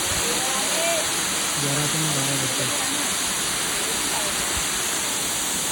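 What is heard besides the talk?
waterfall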